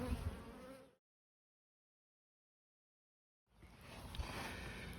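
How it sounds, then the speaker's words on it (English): Honey bees buzz around a hive on a warm day while foraging for nectar and pollen, a dense insect hum that drops out into a long silence, then resumes at moderate level. "The bees are warm. They're out collecting nectar and pollen."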